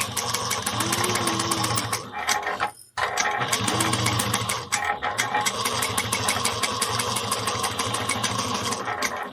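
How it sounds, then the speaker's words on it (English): Sewing machine top stitching trim on a handbag 1/8 inch from the raw edge: a steady, close mechanical whir with rapid needle clatter, broken by one brief pause before the stitching resumes. "I'm going to top stitch this trim at 1/8 of an inch from the raw edge."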